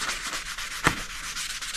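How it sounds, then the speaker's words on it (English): Steady, even rubbing of a flexible sanding pad across the oxidized metal fuel tank of a 1983 Yamaha IT 175 dirt bike, continuous and close, with one brief sharper scrape midway. "I've been working away at this with a flexible sanding pad"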